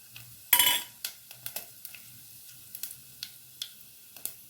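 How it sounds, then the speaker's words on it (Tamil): Mustard seeds, urad dal, cinnamon and cloves go into hot oil for vada curry, starting with a loud sizzling burst followed by scattered sharp pops and light clinks against the pan. "எண்ணெய் சூடாகட்டுங்க. கடுகு போட்டுக்கிறேங்க. உளுந்து கொஞ்சம் போட்டுக்கிறேங்க. அதை பட்டை கிராம்பெலாம் போட்டுக்கலாங்க."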